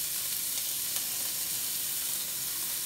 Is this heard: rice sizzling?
yes